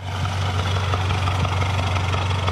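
A BMW M5 Competition fitted with an aftermarket tuning pack idles close by, a steady deep throbbing hum with an even, unbroken drone throughout and no voices over it.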